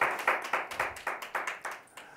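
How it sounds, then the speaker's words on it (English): Small audience at a tech talk gives a short, sparse round of clapping, about a dozen distinct claps in a loose rhythm that taper off within two seconds, fairly faint and slightly distant. "that was a big round of applause"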